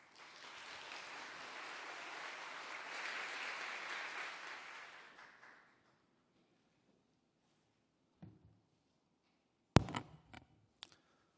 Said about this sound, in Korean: 이 시간 나오실 때 따뜻한 환영의 박수 해주시면 감사하겠습니다.